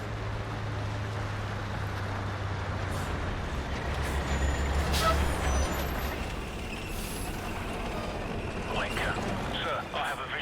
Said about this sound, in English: We're tracking an enemy convoy headed your way. I count 6 vehicles in the convoy, over.